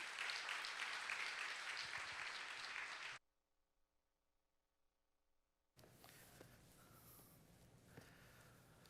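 Congregation applause in a church worship service welcoming a guest preacher, loud and sustained for about three seconds, then a near-silent gap, then softer, scattered applause with room noise returning.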